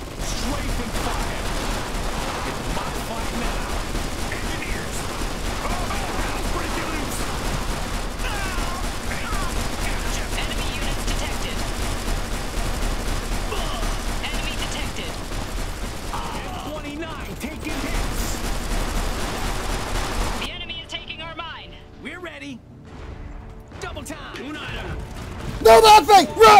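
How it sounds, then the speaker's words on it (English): Strafing gunfire in the strategy video game Iron Harvest, a dense, steady clatter of fire mixed with battle noise and voiced chatter that runs continuously before cutting out sharply near the end. "Strafing fire."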